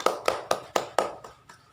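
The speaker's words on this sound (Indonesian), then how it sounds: "Berikan tepuk tangan." A few sharp hand claps in a small classroom, roughly seven evenly spaced slaps that fade toward the end, sounding thin and sparse rather than a full round of applause for students getting a reward.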